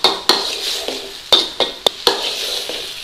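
Diced tomatoes for a keema matar curry cook in a pan while a spoon stirs them, sending out several sharp scraping clacks against a steady close sizzle with no talking.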